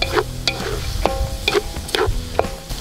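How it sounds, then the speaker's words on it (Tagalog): Crab cooked outdoors with plenty of garlic, chili and onion, stirred in a pan: a run of scraping utensil strokes at a regular pace, each scrape over a low sizzle. "Halo-haloy lang natin yan."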